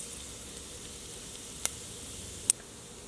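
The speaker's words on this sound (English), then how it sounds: "So once the oil is hot, add half teaspoon of cumin seeds, half teaspoon of mustard seeds" Cumin and mustard seeds sizzle in hot oil with a soft, even hiss, and two sharp pops burst out near the end, with no talk.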